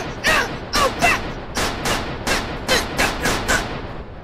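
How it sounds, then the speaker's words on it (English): Eleven gunshots fired at a yellow dot target, loud sharp cracks in a quick uneven string across a few seconds, each with a brief echoing tail, no talking. "I want you to shoot that yellow dot up there."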